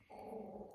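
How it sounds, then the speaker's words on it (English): A dog growls low and continuously for under a second, close by and fairly quiet, with no talking. "Sorry for the barking."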